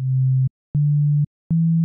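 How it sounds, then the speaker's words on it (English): Synthesizer oscillator producing a pure sine wave tone, set up as the basis for a kick drum: three steady low beeps of about half a second each, separated by short silences, the pitch rising slightly each time. "A kick is usually a sine wave, so make sure that's selected."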